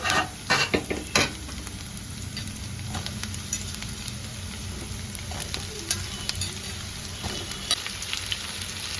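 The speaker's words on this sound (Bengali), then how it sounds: "এবার আমি কেটে রাখা লতিগুলো দিয়ে দেবো" Chopped taro stolons sizzle with lightly fried onions in a pan, a steady, close frying hiss running throughout with a few louder stirring scrapes near the start.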